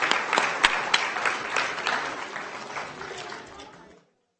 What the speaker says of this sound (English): Let's give them a very big round of applause, folks.